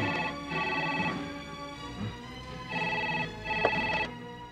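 A telephone rings in repeated bursts of bright electronic trilling with short pauses between, fairly clear over a faint background.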